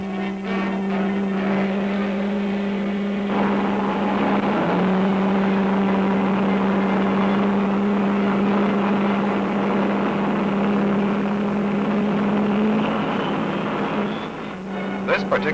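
Propeller engines of a Douglas C-133 cargo aircraft at Dover Air Force Base drone loudly and steadily throughout, with a strong low hum and a sustained roar, heard alone.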